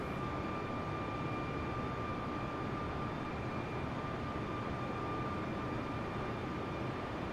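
Steady broadband engine and airflow roar of an airliner in flight in MS Flight Simulator, constant and unbroken with faint tonal whines above it and no speech.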